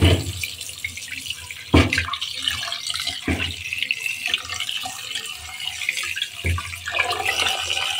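A kitchen tap runs steadily while beef is washed in a sink for a ground-spice beef curry, a continuous near splashing broken by a few brief louder gushes.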